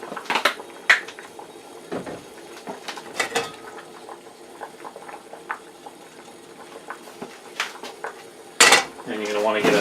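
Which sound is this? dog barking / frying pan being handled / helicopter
frying pan being handled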